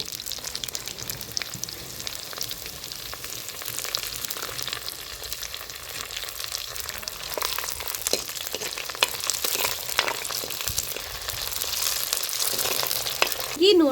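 Cumin, mustard seeds, dried red chillies and curry leaves tempering in hot oil for village-style tomato dal, a dense continuous crackling sizzle up close that swells near the end, with no talk.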